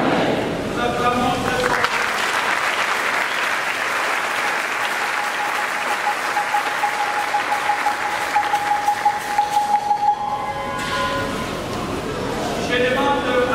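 A church congregation breaks into sustained applause, a dense, loud clapping that fills the room for several seconds, with a voice speaking over it toward the end.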